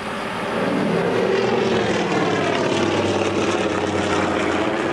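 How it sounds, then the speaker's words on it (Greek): Canadair firefighting aircraft make water drops over a brush wildfire on Zakynthos. A loud, sustained propeller-engine drone swells slightly and then holds steady, close overhead, with no talk. "οι ρήψεις νερού από τα αεροσκάφη πεζετέλ συνεχίζονται"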